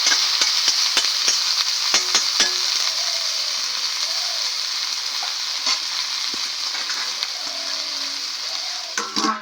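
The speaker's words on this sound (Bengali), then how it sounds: "এবার আমি শাকটা একটুখানি ঢেকে দেবো নরম হবে তো তারপরে আমি খাবার ভেজে নেব" Cauliflower greens sizzle and fry steadily in a pan as a bright, continuous hiss, with occasional stirring clicks and scrapes; no one speaks.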